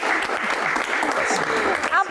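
Audience applause at a live Q&A event, a continuous burst of clapping from a crowd mixed with some voices and a brief louder swell near the end.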